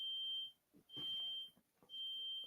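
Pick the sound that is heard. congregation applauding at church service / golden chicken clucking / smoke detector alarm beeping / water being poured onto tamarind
smoke detector alarm beeping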